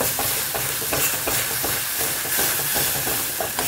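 Spice paste sizzling in a pan on a low gas flame, a loud continuous frying hiss with rhythmic stirring scrapes, close and without talk.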